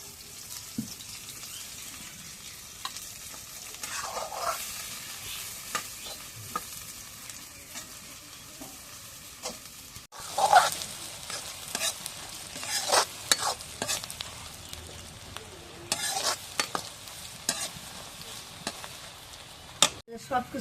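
Ground spice paste with garlic, onion and garam masala frying in hot oil in a wok. Soft sizzling comes under intermittent stirring scrapes and knocks, and it grows louder and busier partway through.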